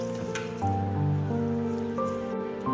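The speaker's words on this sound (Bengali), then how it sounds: "এই যে চালটাকে আমি ভালো করে ধুয়ে জলে ভিজিয়ে রাখছি" Rice for mutton biryani being washed in water, giving close, continuous squishing and sloshing with soft drips throughout.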